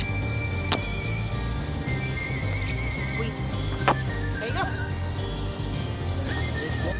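A horse whinnies amid outdoor ambience, with a few sharp knocks and clacks scattered through and some faint background voices.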